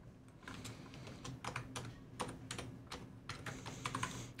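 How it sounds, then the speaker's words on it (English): A password is typed on a computer keyboard as a quiet run of irregular key clicks, close and soft, in uneven bursts with no talking. "And I was entering my password."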